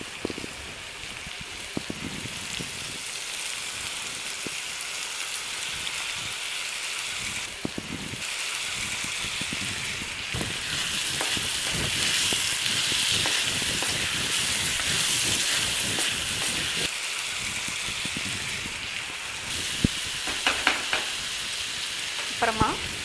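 Drumsticks (moringa pods) fry in a pan for an egg and drumstick curry, with a steady sizzling hiss broken by clattering stirs and scrapes, loud and close, with no voices.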